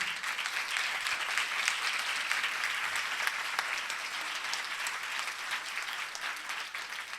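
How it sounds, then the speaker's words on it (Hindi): A church congregation at a Sunday service claps steadily and evenly, a continuous wash of many hands with no break for about seven seconds. "खुदावंद के लिए जब भी ताली बजाएं"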